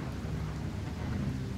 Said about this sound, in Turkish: Yeter artık yağmur yağmasın şu oyunda.